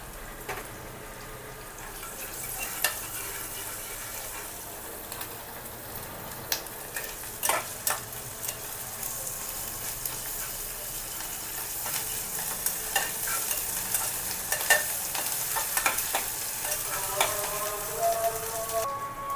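Ginger garlic paste and turmeric fry steadily in a pan for a curry, a close, continuous sizzle broken by scattered clicks and scrapes of stirring.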